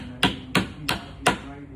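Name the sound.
hammer tapping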